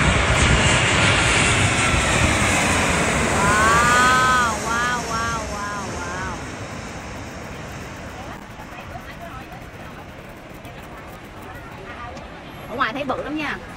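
A low-flying airplane on landing approach passes overhead near a rooftop café, its engine roar loud and broad at first, then slowly fading into the distance, while people talk nearby.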